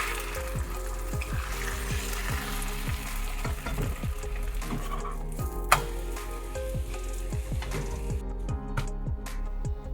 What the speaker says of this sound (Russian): Поджариваю на небольшом количестве масла.